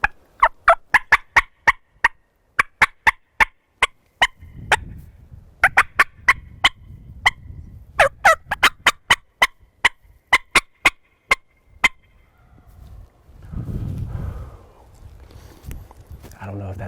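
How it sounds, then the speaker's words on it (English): Wild turkey gobbling in the Idaho mountains during a hunt, repeated sharp rapid bursts in several runs, fairly distant outdoors, with footsteps and soft movement between calls. "I had a bird gobble from down here."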